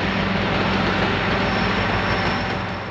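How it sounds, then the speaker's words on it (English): Royal Gorge tourist train heard from high above in a canyon, a steady broad rumble with low engine drone holding throughout at moderate level, no talk. "There it is. The Royal Gorge train."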